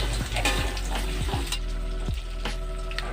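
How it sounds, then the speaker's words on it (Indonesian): Eggplant fries in hot oil in a pan, a loud, steady sizzle with several scraping stirs of a utensil, and no talking. "Lanjut sekarang kita goreng terongnya sampai matang."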